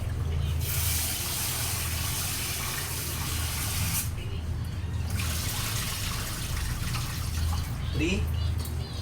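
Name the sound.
water poured into rice cooker pot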